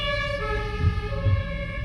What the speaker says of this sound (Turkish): sirenleri açıp geliyor ki daha kötü ya